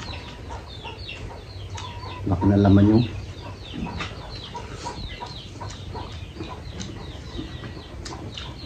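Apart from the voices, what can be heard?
chickens clucking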